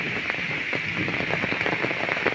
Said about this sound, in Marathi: बराचा वाढला पाऊस आणखीन